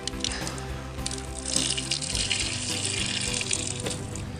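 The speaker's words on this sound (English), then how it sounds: "Just pouring the last of the malt extract out, getting it out of the pouch." Hot water and the last of a malt extract pour steadily out of a pouch, a loud continuous gurgling splash with liquid sloshing and shifting pitch as the flow changes.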